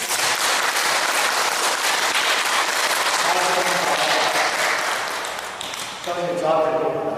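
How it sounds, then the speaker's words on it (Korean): Audience applause at a Buddhist dharma lecture gathering, dense clapping filling the hall with scattered sharp pops, fading slightly before swelling again; voices mix in underneath. "박수 한번 주세요."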